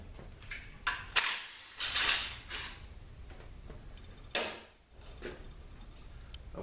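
A detent is taken off a 6F50N automatic transmission during a teardown, with scattered metallic clicks, ticks and a few sharper clanks of parts being handled, close and fairly quiet with no talk.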